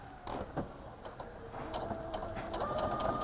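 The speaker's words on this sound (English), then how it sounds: "And now when I sew down," Home sewing machine stitching down fabric with the needle moved to the far left position, a steady mechanical whir and rhythmic needle clatter running close and moderately loud throughout.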